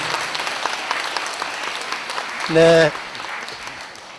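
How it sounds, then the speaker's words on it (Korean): Church audience at an Advent lecture in a Catholic parish breaks into loud, sustained applause, with a short tonal burst midway and a voice speaking briefly over the clapping. "크게 박수로 보내주십시오."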